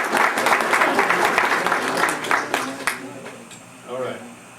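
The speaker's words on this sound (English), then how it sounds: "Folks, another round of applause here for Frank Love and Ray Ledford." A crowd applauds two musicians, Frank Love and Ray Ledford, at an 80th birthday celebration, the clapping loud at first and thinning out, followed by scattered voices and murmuring.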